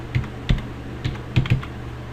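Login credentials being typed on a computer keyboard, heard as a short burst of about half a dozen close, crisp keystrokes in an irregular rhythm, with no talking.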